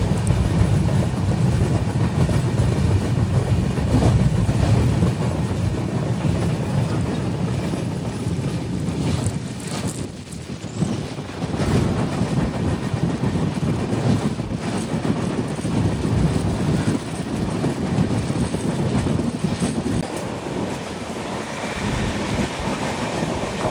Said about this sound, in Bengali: এই মুহূর্তে আমাদের ট্রেন এসে পৌঁছেছে অন্ধ্রপ্রদেশের ইস্ট গোদাবরী ডিস্ট্রিক্টের রাজমন্দ্রি